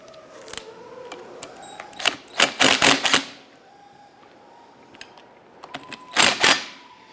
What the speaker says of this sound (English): We're going to use our 13mm socket to loosen and remove the nuts on the bottom.